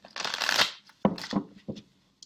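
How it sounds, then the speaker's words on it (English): A deck of tarot cards is shuffled up close: a long riffling rush, then a few shorter flicks and taps, with a soft click at the end. "I usually shuffle these cards also right after my last reading"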